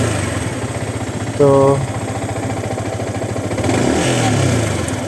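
A Yamaha R15 V3 motorcycle engine idles with a steady close throb and rises into a brief rev near the end, while someone talks over it.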